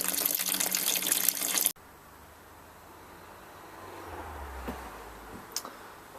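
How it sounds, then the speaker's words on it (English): Home-brewing an autumn IPA real ale: sparge water splashes loudly over the mash grain and drains into a bucket, a strong rushing pour for under two seconds that cuts off into a faint, low trickle with occasional small drips. "I'll just play it across the surface of the grain and then wash out all the sugar into the bucket down here"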